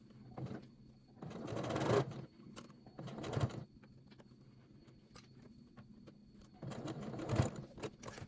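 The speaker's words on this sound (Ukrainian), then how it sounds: "Зараз зверху прокладу строчку прямо от по цих моїх загнутих припусках." A domestic sewing machine stitches along the folded seam allowances of a pair of trousers, running in three short bursts of rapid whirring with quiet pauses between them.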